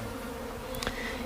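Bees at hives under attack by bee-eating bees make a close, continuous buzzing drone, with a brief higher whine passing through.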